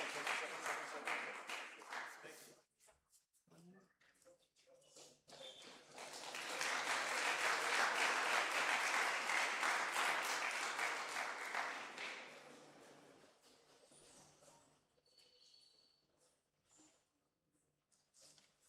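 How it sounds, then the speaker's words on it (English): Attendees at an international conference applaud the Niger team, a few seconds of scattered sound leading into a sustained burst of clapping in the middle, then fading to sparse claps and quiet room noise. "another applause for them, the Niger team"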